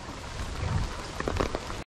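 Heavy rain pours steadily on a trail at Aberdeen Country Park in Hong Kong, a dense, close hiss with scattered louder drops and splashes, ending abruptly.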